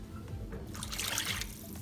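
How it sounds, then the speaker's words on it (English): Water trickles and pours into a basic chicken curry gravy in a pot, a soft steady liquid stream lasting under two seconds, close and fairly quiet with no talking. "Now I'm going to add a little water to it."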